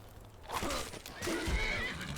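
A horse in Skyrim gives a loud, close whinny that rises and trails off, with faint hoof clip-clop beneath, no talking over it.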